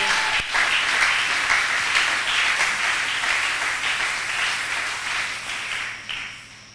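A church congregation applauds to acclaim the Lord during a sermon, a dense sustained wash of clapping from many hands that slowly fades toward the end.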